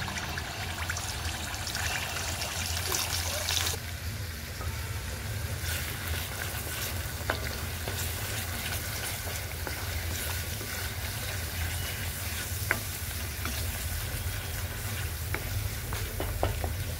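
Ground masala paste frying in about three ladles of oil in a kadai for a dry chicken dish: a steady, close sizzle with stirring scrapes and small pops throughout, no voices.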